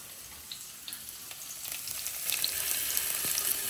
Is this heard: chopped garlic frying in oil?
yes